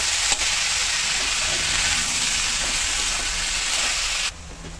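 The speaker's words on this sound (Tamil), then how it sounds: "தக்காளி வதக்கலாம்" Tomatoes for bitter gourd thokku sizzle in a hot pan with a loud, steady frying hiss that cuts off abruptly just before the end.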